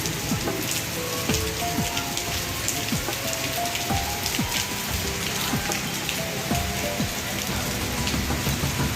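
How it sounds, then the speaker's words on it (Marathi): A downpour of heavy rain hammers nearby surfaces in an unbroken, loud hiss speckled with individual drop impacts, heard alone without talk. "बघा किती मोठा पाऊस आहे"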